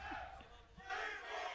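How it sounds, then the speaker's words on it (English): An audience at a Tekken fighting game tournament, the 2023 TWT Masters REV Major, chants in a broad roar that swells midway, with crowd noise throughout. "The deafening crowd chanting for CBM."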